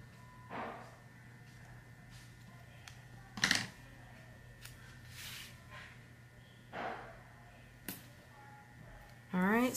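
Scissors cutting paper planner stickers at a desk, a few quiet separate snips and rustles spread out, with soft handling noises in between.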